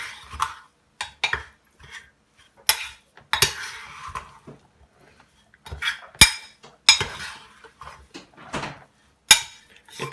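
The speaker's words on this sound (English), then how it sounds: "you start to mix your meat with the seasonings" Beef stew meat being tossed with powdered seasonings in a bowl makes scattered close clinks, scrapes and knocks of a utensil against the dish, coming in irregular bursts between quiet gaps, with no one speaking.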